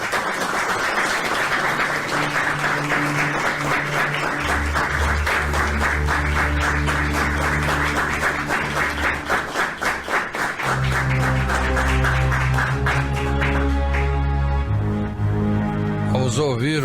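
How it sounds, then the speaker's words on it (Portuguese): An audience claps at a Portuguese-language spiritist gathering, with sustained, dense applause that runs on for many seconds while music plays underneath, then tapers toward the end. "Uma salva de palmas para o nosso irmão."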